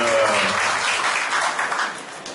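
Sustained applause from an audience in a university lecture hall, a dense wash of many hands clapping that stays loud throughout and fades slightly toward the end.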